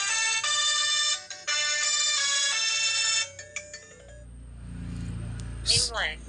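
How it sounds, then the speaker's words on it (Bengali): A small itel Ace 3 keypad mobile phone plays a loud, bright melodic ringtone through its big speaker for about three seconds, with a short break in the middle, then stops and leaves a soft handling rustle. "সাউন্ডটা আপনি দেখে নিচ্ছেন যে কি সাউন্ড, কতটা পারফেক্ট সাউন্ড রয়েছে, বিগ স্পিকার"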